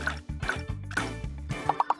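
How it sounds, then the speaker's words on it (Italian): Red liquid soap is poured into molds while making food-shaped soaps, giving soft repeated dripping and trickling sounds over a low hum, with a few quick plops near the end. "Prendiamo ad esempio il sapone rosso e versiamolo in ogni stampo."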